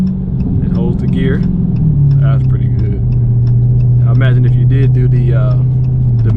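Low engine and exhaust drone of a 2019 Dodge Challenger Hellcat Redeye under acceleration, a steady loud rumble holding in gear while someone talks over it throughout.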